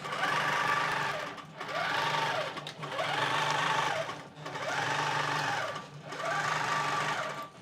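Longarm quilting machine stitching a Continuum quilt, running in five steady bursts of rapid mechanical needle chatter with brief pauses between, close and fairly loud, no talk.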